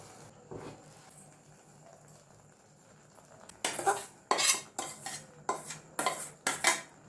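Fried bread crumbs being stirred into sugar syrup for bread halwa: a quiet stretch, then a run of loud, uneven metallic scrapes and clinks of a spoon against the pan, about six or seven strokes in close succession.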